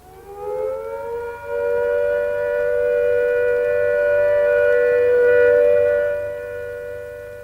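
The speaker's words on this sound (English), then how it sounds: "When the all clear sounds, like this" A civil defence all-clear siren sounds one long, steady, unwavering tone, rising quickly to full volume and holding for several seconds before starting to fade.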